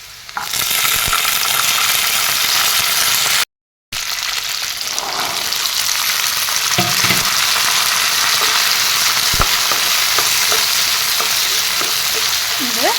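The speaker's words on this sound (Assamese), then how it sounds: "ইয়াতে মই এতিয়া মটৰকেইটা দি লওঁ" Green peas hit a hot pan of browned onion and garlic and fry with a loud, steady sizzle and crackle throughout, with occasional stirring scrapes and no talking.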